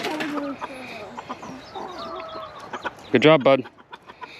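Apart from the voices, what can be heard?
chickens clucking excitedly over fed carrot greens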